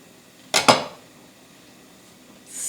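Two quick, sharp chops of a knife through stacked tortillas onto a cutting board, close and crisp, with a quiet pause after and no talking.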